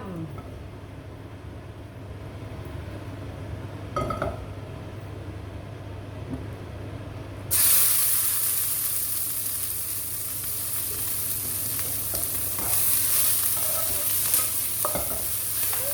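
Chili and garlic hit hot oil in a pan and set off a sudden loud sizzle, which keeps frying steadily close by. Before that comes quieter kitchen noise with a few stirring clatters.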